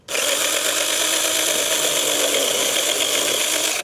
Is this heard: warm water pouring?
no